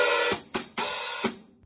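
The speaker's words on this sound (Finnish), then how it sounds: "Tämä tässä on hi-hat eli haitsu. Siinäkin on tämmöinen jalkapedaali." A hi-hat worked with its foot pedal gives a handful of close, bright metallic chicks and short sizzles in a loose rhythm, then fades.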